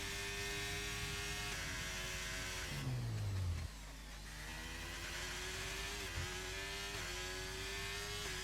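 A Ferrari race car engine in a racing video game, running at high, steady revs down the straight on the Bahrain circuit, with a brief downshift drop before it climbs again, loud and continuous.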